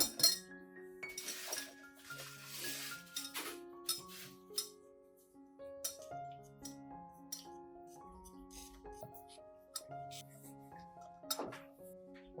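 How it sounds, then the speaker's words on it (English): Chopped garlic tipped into a glass cup with turmeric powder, making a series of bright clinks and light taps of glass at close range, with a few louder scattered bursts. "After chopping, I will add all the garlic into the glass cup, together with the turmeric powder."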